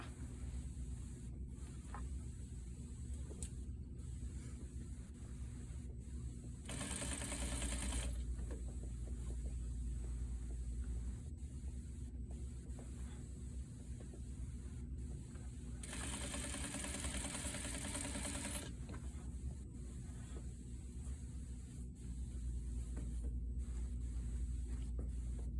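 A sewing machine stitches a seam on a bias-bound armhole finish, running as a steady close mechanical hum that carries through the whole stretch, with two brief louder bursts of higher whirring partway through and no talking.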